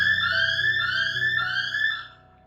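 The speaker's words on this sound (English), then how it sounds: "This is a panic alarm in the washroom." Panic alarm in a school washroom rings continuously, a steady electronic tone with bright stacked harmonics that pulses in a slow wavering cycle, loud and close, then cuts off near the end.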